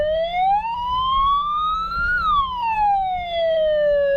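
A cheap aftermarket electronic yelp siren wails loudly and steadily, its pitch sweeping up then back down across a few seconds with no voices.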